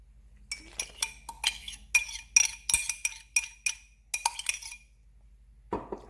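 A spoon stirs yeast into a mixture in a bowl for Turkish bazlama flat bread, making a run of sharp, close clinks and taps against the bowl, then a pause and one last knock.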